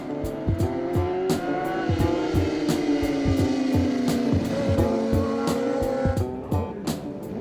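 Superbikes in the Canadian Superbike Championship head out on a sighting lap around the circuit, a pack of high-revving engines rising and shifting through gears, several bikes overlapping loudly and steadily with no talking.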